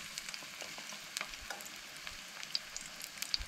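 Vegetable cutlets made with rice flour fry on a low gas flame, a soft steady sizzle with scattered small crackles and pops, quiet and close.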